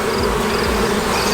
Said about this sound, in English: I have a bee between my two fingers